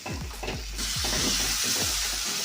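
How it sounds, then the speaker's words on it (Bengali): Ginger, onion and garlic spice paste sizzles steadily in a pan while being sautéed for a village-style chicken kosha, with a soft hiss and a few stirring scrapes near the start. "মশলাটা কষানো হচ্ছে"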